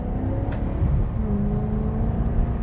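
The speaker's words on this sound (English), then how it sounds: "let's take the old Maserati Gran Turismo for a drive" An old Maserati GranTurismo pulls away, its engine a loud, close, continuous low rumble with a gently rising tone and steady drone, with no talking.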